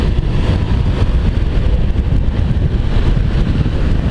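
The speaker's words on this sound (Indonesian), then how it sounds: "sambil kena angin semeriwing" Steady, loud wind rushing past a moving motorbike on a road shaded by trees, a continuous dense roar of buffeting air with no break, and no talk.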